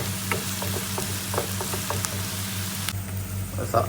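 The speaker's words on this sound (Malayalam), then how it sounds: "ബ്രൗണിഷ് കളർ ആകുന്നോളം വരെ ഇത് നമ്മൾ നല്ലപോലെ ഇളക്കി കൊടുക്കുക." Onions frying in a pan while being stirred until brown, a steady sizzle with a series of light scraping stir strokes.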